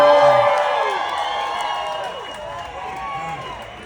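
Fans at an Oscar Piastri event at the Australian Grand Prix make a loud, dense crowd roar with whoops and cheering, strongest at the start and easing slightly but staying sustained throughout, with voices mixed in.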